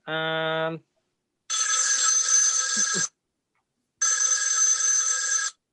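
A telephone rings for an incoming caller: a short electronic tone, then two long bright trilling rings separated by a pause, loud and close with no talking over them.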